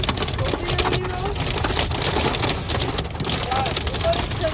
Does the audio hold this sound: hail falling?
yes